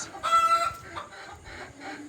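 Fayoumi chickens raised for eggs cluck on a farm in short repeated bursts, close and moderately loud, with background farm noise.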